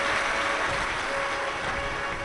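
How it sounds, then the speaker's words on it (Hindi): Loud, sustained applause from a large crowd welcoming host families at a live Shiv Mahapuran religious discourse, a dense, even wash of clapping across the whole moment with no speech over it. "एक बार सभी यजमान परिवार के लिए जोरदार ताली बजाकर स्वागत"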